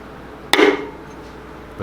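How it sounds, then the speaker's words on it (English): A single sharp metallic hammer strike, tapping a part into a K24 engine short block, rings out with a brief decay, then near silence follows. "Use my hammer."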